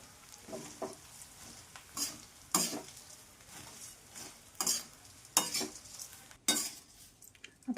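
Puffed rice (murmure) roasting in a pan with the gas switched off, dry grains rustling and scraping in repeated bursts as they are stirred, with soft clinks of a utensil against the pan.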